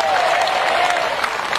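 An audience at a large Islamic boarding school religious gathering gives a short, loud burst of dense applause.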